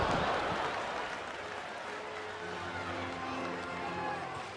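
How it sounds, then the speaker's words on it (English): Baseball stadium crowd cheering and applauding, a broad roar of claps and voices loudest at the start and then holding steady, with a commentator talking over it. "Crowd's back into the ball game now."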